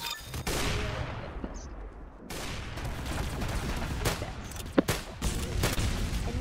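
Gunfire in a Roblox-style shooter game called Arsenal, fairly quiet bursts of rapid shots and a few sharper single cracks spread over several seconds, with no talk.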